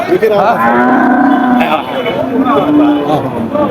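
Cattle mooing at a busy cow market in Chougachha, Bangladesh: loud, close, drawn-out lowing calls stretching across the clip over crowd chatter, with people talking nearby.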